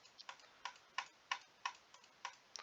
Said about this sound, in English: you probably hear the clicking of my mouse